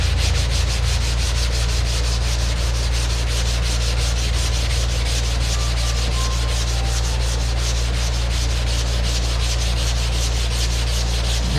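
Steady, continuous rasping of sandpaper on a car's nose deck and B-pillar, stroking back and forth for the whole stretch at close range, with no talk over it.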